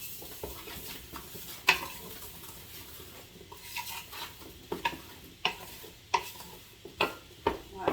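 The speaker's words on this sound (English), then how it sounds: "And stir it until it comes to a boil." Strawberry jam mixture is stirred in a pot over medium heat, with a quiet simmering sizzle under repeated clinks and scrapes of a spoon against the pot, spaced out and growing more regular.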